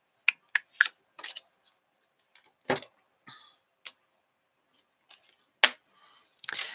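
Tarot cards are shuffled and drawn, giving sharp dry flicks and snaps in irregular bursts separated by quiet gaps, close and crisp, with no talking.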